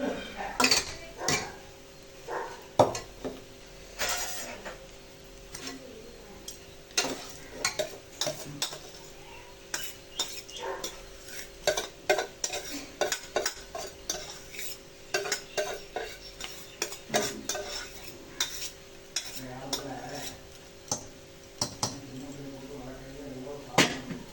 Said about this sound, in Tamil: சாப்பாட்டை வேறு இதில் மாற்றிக்கலாம் வேறு பாத்திரத்தில் மாற்றிக்கலாம்